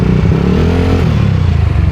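Dense road traffic in Manila with motorcycles and cars, a loud, close, continuous engine rumble with droning motor tones and clattering road noise.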